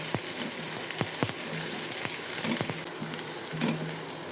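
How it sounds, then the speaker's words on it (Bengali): Onions fry in oil in a pan for a fish curry, a steady soft sizzle with occasional clicks of stirring, heard alone without talk. "পেঁয়াজটাকে হালকা ভাজা দেব"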